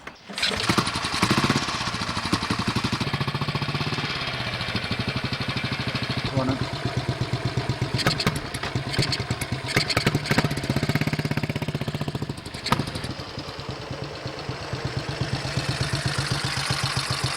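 A Norton ES2 motorcycle engine kicks into life and settles into a steady, close idle with an uneven, throbbing putter.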